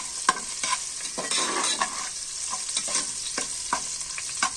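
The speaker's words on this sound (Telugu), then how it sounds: "సాల్ట్ వేసిన తర్వాత ఒకసారి ఇలా అయితే మిక్స్ చేసుకుంటున్నాను" Onions sizzle in hot oil after salt is added, with a spoon scraping and stirring through the pan in repeated strokes over a steady close frying hiss.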